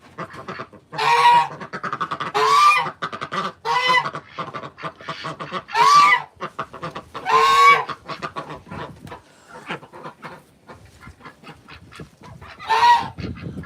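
Backyard geese, ducks and chickens at feeding time burst into loud honking and clucking in repeated clustered calls, close and overlapping, separated by brief lulls filled with softer chatter and clucks.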